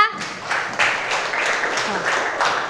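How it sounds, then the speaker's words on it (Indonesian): A classroom of students applauds a classmate during a culinary practice lesson, a steady patter of many hands clapping at moderate volume, slightly distant, sustained for almost three seconds. "Berikan tepuk tangan dong untuk temannya."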